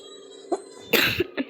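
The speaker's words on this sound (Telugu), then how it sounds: "ఈ దగ్గు ఒకటి రావే నాయన" A few short, close coughs in quick succession, the middle one harshest, with brief quiet gaps between them.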